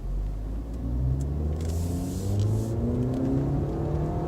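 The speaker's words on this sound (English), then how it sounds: "It's pedal to the metal, guys, and I'm only going 40 miles per hour up this hill." A Range Rover Evoque in sport mode climbs a hill at full throttle. Its engine drones loud and close, with the pitch slowly rising and then straining flat, and no talking over it.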